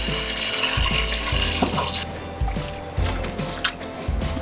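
Raw oysters being rinsed by hand in water at a kitchen sink, producing steady close splashing and sloshing with a few soft knocks of shells, running throughout without any talk.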